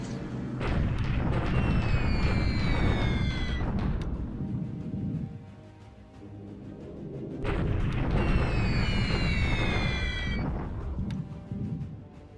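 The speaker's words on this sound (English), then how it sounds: "A little more night bombing here." Night bombing raid in a World War II strategy game: dense, rumbling low booms and explosion bursts come in two long loud waves with a brief lull between, mixed with rising whistling tones.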